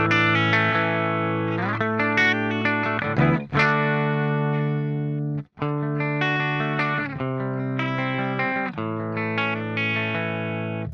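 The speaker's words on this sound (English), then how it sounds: "It's stereo chorus." Electric guitar run through an aggressive stereo chorus effect from the Neural DSP Archetype Plini plugin, sustained shimmering chords with a wide, wobbling modulation, played loud and alone with two brief breaks between phrases.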